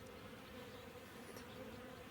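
Bees buzz steadily close by as they collect water at a drinking spot, a continuous faint drone with no voices.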